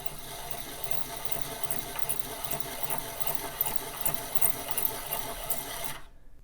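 A piston ring's end gap is filed on a ring grinder for a boosted engine, producing a steady buzzing, whirring grind with light rhythmic pulses that runs continuously and cuts off abruptly.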